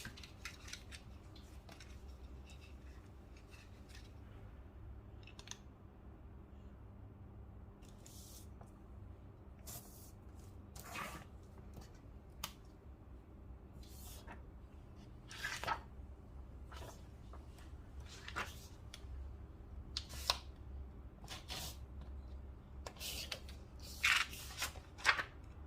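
Scissors snipping through the silicone part from a DF64 coffee grinder to cut out a hole, with a series of sharp, irregular clipping sounds that come closer together near the end, close and quiet, no speech.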